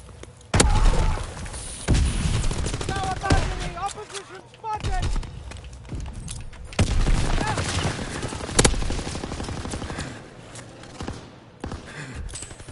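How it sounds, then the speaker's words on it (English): C4 explosions and gunfire in the video game Call of Duty WW2 multiplayer, with loud bursts of shots and sharp blasts scattered through the stretch, mixed with busy game effects and someone talking over them. "this guy's using C4"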